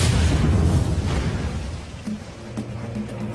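A deep, rumbling boom fills the opening, its low roar slowly fading into a steady hum with faint thuds; no voices.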